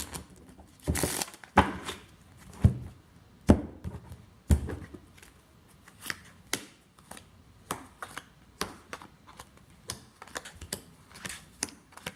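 Tarot cards are shuffled and snapped down in repeated bursts of crisp riffles and taps, close up, with pauses between them.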